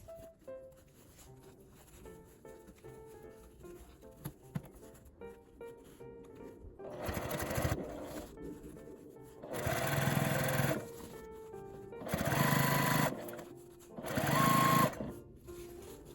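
A domestic sewing machine stitching elastic onto grid-printed fabric, running in three loud whirring bursts of a few seconds each, separated by quiet pauses with light handling noises.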